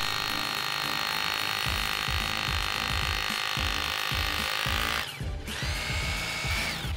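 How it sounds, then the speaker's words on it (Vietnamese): A Bosch GBH 2-24 DRE rotary hammer runs in hammer-drill mode, drilling and hammering at once as used on concrete and walls. It gives a loud, steady, rapid pounding whine, briefly stops, then starts up again alone. "Đầu tiên chúng ta test chế độ khoan búa."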